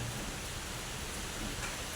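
Heavy rain pours outside as a steady, even wash of noise that stays constant and fairly loud for the whole moment, with no voices.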